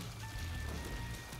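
Steady synthetic rain effect from the video game The Binding of Isaac Repentance, a dense continuous hiss of falling drops running unbroken and fairly quiet, with no talking over it.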